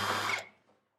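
A power drill pre-drilling a hole in a 1968 Volkswagen Beetle whirs briefly at close range, then winds down quickly into silence.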